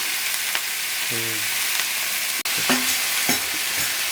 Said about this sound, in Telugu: గుడ్లు వేస్తున్నాను గుడ్లు వేసి ఉంటున్నాను